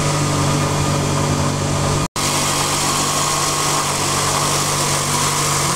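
A Toyota RAV4 engine with a noise fault runs at a steady idle with the hood open, a constant close hum and vibration, cut by one brief dropout midway.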